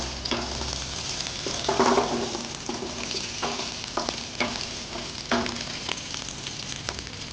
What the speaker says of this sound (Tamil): கொஞ்சம் இந்த பச்சை மிளகாய் நல்லா சாத்தே ஆகட்டும்.